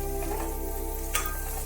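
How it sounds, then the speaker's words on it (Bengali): Chopped onion and garlic frying in a pan for a dhaba-style Bengali egg tarka, a constant close sizzle with one brief stir or scrape near the end. "পেঁয়াজ রসুন একটু ভেজে নিতে হবে।"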